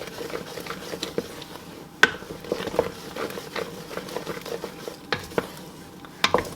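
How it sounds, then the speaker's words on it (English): A spoon stirs buttermilk praline mixture in a pot with soft scraping and occasional sharp knocks against the pot rim, close and alone, with no talking. "Stir that in good."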